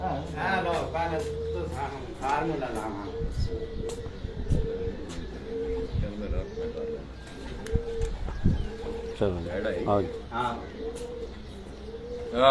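Pigeons coo repeatedly in soft, rolling bursts at a pigeon-flying event, mixed with people talking nearby and occasional sharp knocks and clatter.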